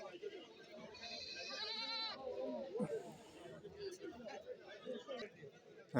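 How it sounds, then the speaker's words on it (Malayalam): Goats for sale bleat in short, wavering calls amid people chatting nearby, the bleats rising clearly over a quiet background of talk. "കറവയുള്ളതും കറവില്ലാത്തതുമായ ആടുകളാണ് ഇതായി ഈ ഭാഗത്ത് നിൽക്കുന്നത്"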